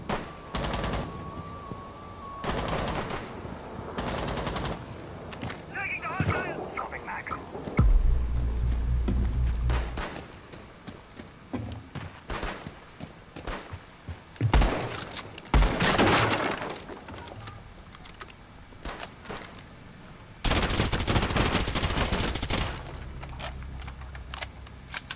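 Gunfire in Rainbow Six Siege comes as repeated loud bursts of close shots and rapid automatic fire, mixed with glass shattering, debris and impacts, with short gaps between volleys.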